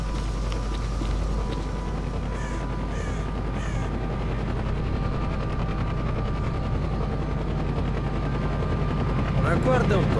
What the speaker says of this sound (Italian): Rumore di elicottero.